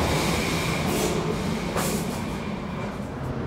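A Vienna U6 metro train at a station, a steady loud rumble of rolling rail cars filling the scene throughout, close and continuous without speech.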